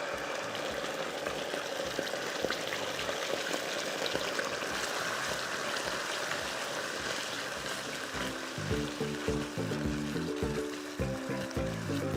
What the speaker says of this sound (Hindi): मैं इसके अंदर थोड़ा सा पानी डाल रही हूँ